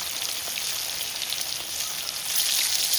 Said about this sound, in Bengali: মাছগুলো পুরো কড়া করে ভেজে নেবে তো?